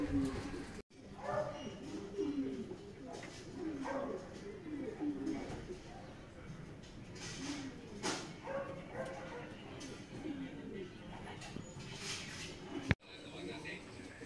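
Racing pigeons arriving at a loft during a derby race in San Narciso, Quezon, with repeated soft cooing, wing flutters and a dog barking, all mixed under steady nearby talk.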